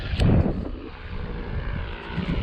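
A paramotor engine runs during a paragliding landing approach in wind, giving a loud, buzzing propeller drone. It stays steady and close throughout, with slight surges and wind noise and no voices over it.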